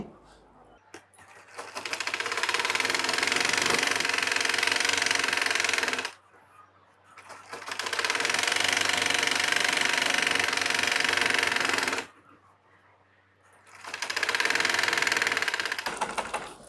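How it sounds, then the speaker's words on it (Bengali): A sewing machine stitches trouser pajamas in three long, steady, loud runs of rapid mechanical chatter, separated by short pauses. "সেলাই করছি"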